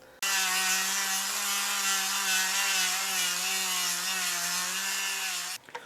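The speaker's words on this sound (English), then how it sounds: "now it's time to get on the sander here and shape this down to these contour lines" A power sander shaping wood for a swimbait mold master whirs steadily at close range with a constant harmonic whine for several seconds, then abruptly stops.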